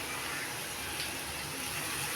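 Water pouring and running steadily while cooking paneer masala, a continuous close splashing flow like a tap or draining liquid, with no talking.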